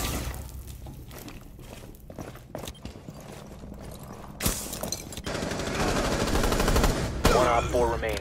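Video game gunfire during a breach, loud bursts of rapid shots and impacts layered over dense game audio, with no talking.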